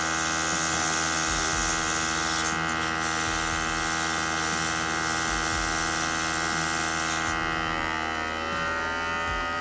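An airbrush sprays paint on a Deathwing Contemptor miniature, giving a steady close hiss over a compressor's constant buzzing hum. The hiss cuts off briefly about a third of the way in and drops away near the end.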